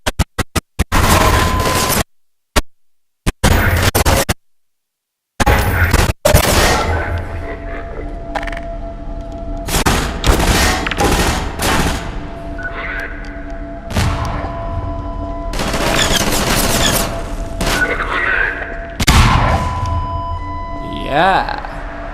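Half-Life 2 combat with loud grenade blasts and bursts of gunfire, sharp booms separated by brief silent gaps, then ongoing mechanical clatter under someone talking.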